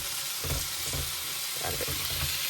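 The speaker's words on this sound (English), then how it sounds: "And my chicken is frying off slowly over here" Chicken pieces sizzle gently in a pan inside a motorhome kitchen, a soft steady crackle with occasional bursts as the meat is stirred, quiet and close with no talking.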